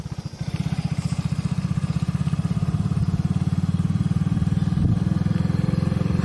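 Motorcycle engine running in first gear on a forest route, a steady loud rapid low thump throughout, close by and alone with no talking.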